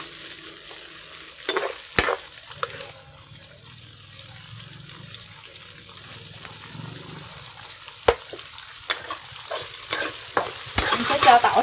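Garlic sizzles and stir-fries in a pan for a vegetarian sour soup, with loud metallic scrapes and clanks from the spatula over a steady hiss of frying.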